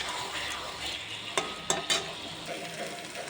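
Potatoes and peas with ginger paste, green chilli paste and tomato paste sizzle steadily in a pan. A few sharp scrapes and clacks of a stirring spoon stand out midway through.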